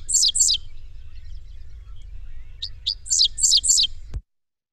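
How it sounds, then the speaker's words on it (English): Dickcissel, a grassland bird that nests in agricultural fields, singing its song: bursts of sharp, high chirps, two clusters at the start and a longer run near the end, over a low background rumble. "It sounds like tick, tick, sississel."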